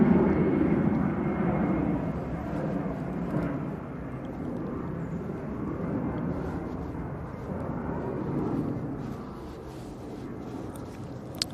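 An EasyJet airliner departs for Malaga at Manchester Airport, its low engine roar steady and fairly distant, swelling slightly then easing across the whole stretch.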